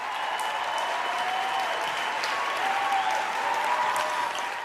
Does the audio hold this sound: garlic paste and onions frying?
no